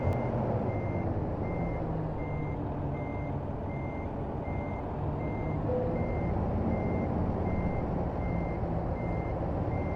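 A truck backs a trailer toward a loading dock in American Truck Simulator, its reversing alarm beeping in a steady, evenly spaced rhythm over a constant low diesel engine rumble.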